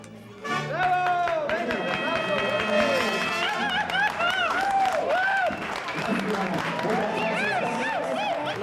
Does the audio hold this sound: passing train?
no